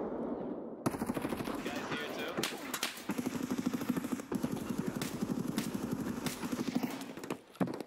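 Automatic gunfire in the shooter game Escape from Tarkov, fast rattling bursts continuing throughout under a steady low hum, with a player talking over the shots.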